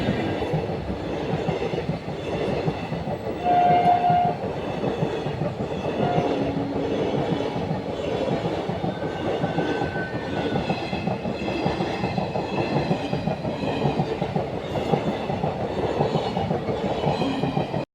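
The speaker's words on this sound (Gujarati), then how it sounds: "હવે આવશે અહીંયા ટ્રેન" A train arrives at a railway level crossing and rolls past nearby, a steady loud rumble of wagons with faint clickety-clack and a brief squeal, with no voices.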